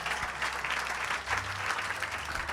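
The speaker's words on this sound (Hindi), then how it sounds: "ताली बजा के प्रभु को महिमा दे।" A church congregation claps together at a Sunday service, a dense, even wash of applause that holds steady throughout, close and fairly loud.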